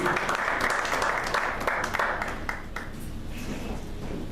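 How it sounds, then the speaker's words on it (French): A church congregation applauds and cheers for their pastor, a dense, steady wash of clapping from many hands filling the room at moderate loudness throughout. "Acclamons pour Jésus pour acclamer l'homme de Dieu."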